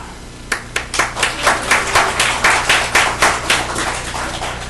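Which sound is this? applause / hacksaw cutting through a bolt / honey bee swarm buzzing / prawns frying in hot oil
applause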